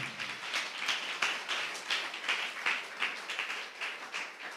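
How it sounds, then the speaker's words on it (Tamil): A church congregation at a worship service claps hands in a steady rhythmic beat, moderately loud and close, with overlapping claps repeating evenly throughout. "நல்ல 2 கையை தட்டி ஆண்டவருக்கு நன்றி சொல்லுங்களேன்"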